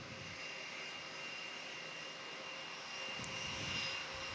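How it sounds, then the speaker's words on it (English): A Shanghai Airways heavy airliner rolls at Melbourne Airport, its engine roar steady and moderately distant, swelling slightly toward the end with no talk. "Shanghai Airways rolls off on their service to Shanghai, China."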